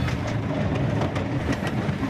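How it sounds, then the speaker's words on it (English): Steam train running through sanctuary grounds past lagoons, a steady rolling rumble with rhythmic clickety-clack of wheels on rails, close and continuous. "a ride on the steam train tempted him to recapture that early vision"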